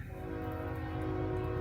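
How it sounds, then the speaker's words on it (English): A nearby train sounds its horn in one steady, sustained chord that holds for the whole moment, with a low rumble of rolling wheels beneath. "there's the old train"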